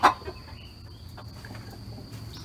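Hens cluck in a chicken run, with one short, fairly close cluck at the start and then soft, scattered clucks and faint activity over a low background hum.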